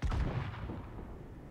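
A cannon fires in the video game Enotria: The Last Song, a single loud, booming blast that hits at once and rolls off into a long, rumbling decay.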